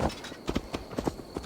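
Horse hooves clip-clop at an even walking pace in the video game Assassin's Creed Valhalla, a series of soft, close, regular thuds heard alone.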